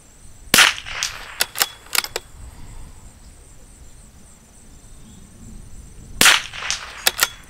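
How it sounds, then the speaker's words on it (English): Rifle shots are fired from a Gecko 2 barricade bag rest at an outdoor range, with two sharp cracks several seconds apart, each followed by quick echoing slaps and clicks, against a steady background of insects chirping. "We're going to start taking a couple shots off of the points."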